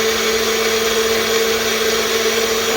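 An electric kitchen blender runs loudly and steadily while blending soup ingredients, a constant high whirring motor drone with a strong tonal whine.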